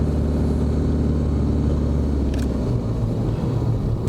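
A learner driver's car accelerating during a driving lesson, with a steady low engine rumble that holds loud and close throughout, shifting slightly in tone near the end as the revs change.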